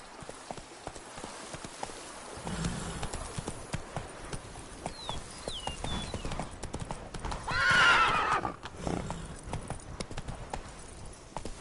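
Roach, a horse in the video game The Witcher 3: Wild Hunt, gallops in a steady drumming rhythm of hoofbeats, broken midway by a loud whinny and snort.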